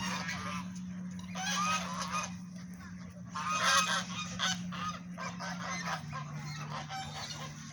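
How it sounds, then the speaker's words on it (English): A large flock of geese honk and call continuously close by near ducks, a busy overlapping chorus over a steady low hum. "That's a lot of birds."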